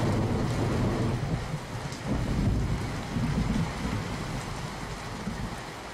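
Heavy, unbroken rain pours down in a monsoon downpour in Tapi district, Gujarat, a loud dense hiss with low rumbling that rises and falls slightly but never stops, with no voices.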